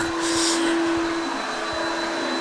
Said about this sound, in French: On vient de tout mettre en hauteur pour lancer l'aspirateur.